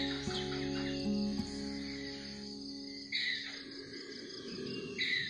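Several birds call outdoors on a fresh morning, with clear whistled notes and chirps coming in short bursts and pauses over a faint insect-like background hum, fairly near and distinct, with no talking.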